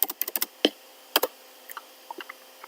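Fingers tap on a computer keyboard in quick, uneven bursts of sharp clicks, close and fairly quiet, with short pauses between runs of keystrokes.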